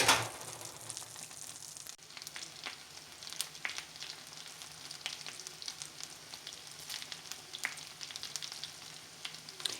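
Cigar-shaped pastries fry in melted butter in a pan, a faint, continuous sizzle with scattered crackles and pops and occasional soft stirring or scraping, with no voices.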